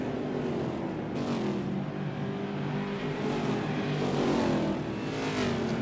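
NASCAR stock car engine at Richmond Speedway, a continuous droning roar that swells gradually as the car comes nearer, heard from a distance with no voices.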